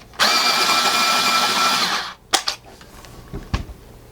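An AFMAT variable 6–12 mm electric pencil sharpener with point control grinds a pencil tip, giving a loud, steady whirring roar of about two seconds that cuts off abruptly, followed by a few light clicks and knocks.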